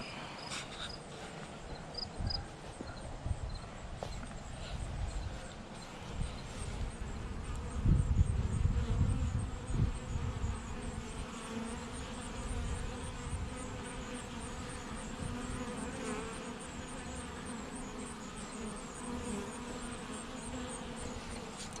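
Honeybees swarm around an active beehive during an inspection, a dense continuous buzzing close by with a brief louder surge partway through, no voices.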